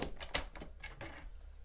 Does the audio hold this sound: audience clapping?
no